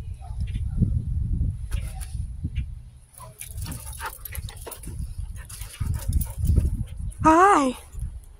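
A dog whimpers and yips briefly near the end, with a high, wavering cry after a stretch of quiet talking and movement.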